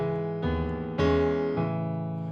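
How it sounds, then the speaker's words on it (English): Low piano tones layered into an RnB beat, three sustained notes struck in slow succession with long resonant decay over a soft backing, no voices. "I added a second piano, believe it or not, on this part right here."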